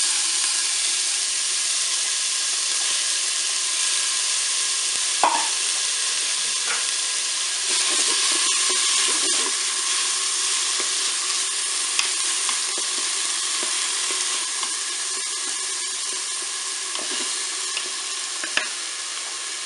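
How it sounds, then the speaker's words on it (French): Onions sizzle steadily in a preheated Cookeo multicooker at the start of a paella, a dense continuous frying hiss with occasional stirring clicks and scrapes, close and fairly loud, no talking. "Je vais donc commencer par mettre mes oignons"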